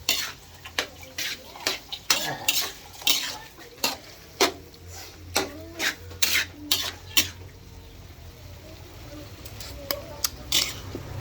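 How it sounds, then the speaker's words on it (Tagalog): A utensil stirs eggs and tomatoes for scrambled eggs in a hot pan, making repeated scraping and clicking strokes in an uneven rhythm over a soft, steady sizzle. "haluin natin yung itlog"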